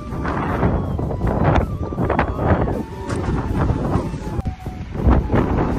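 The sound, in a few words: strong wind outdoors by the sea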